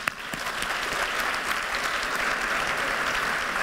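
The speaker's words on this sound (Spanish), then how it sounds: "Otro aplauso para Karina." An audience at a Madrid hackathon demo show applauds steadily, dense even clapping holding at a moderate level from start to finish with no voices on top.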